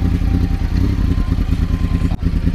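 A big motorcycle engine rumbles loudly and close by, with a deep, rapid, pulsing idle that runs steadily before a brief dip near the end.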